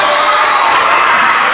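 A large, vocal crowd at a girls high school basketball game in a gym cheers and shouts in a loud, continuous roar.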